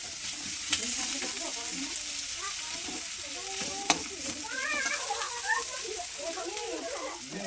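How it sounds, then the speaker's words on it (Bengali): Fish frying in hot oil in a pan as it is stirred, a steady close sizzle with scraping stir sounds throughout and a sharp clack midway, with no talk. "সব নেড়ে চেড়ে নিতে হবে সুন্দরভাবে,"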